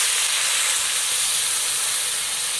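Water hits a hot pan of spice-fried soybeans and erupts into a loud, steady, broadband sizzling hiss that fills the whole moment, close and without talk.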